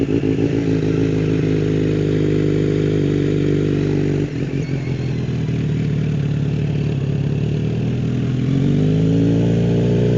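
A Kawasaki Z900RS SE motorcycle without an ECU tune ridden at walking pace, its engine a loud, steady low rumble with a brief dip and slight rise in revs, close and continuous.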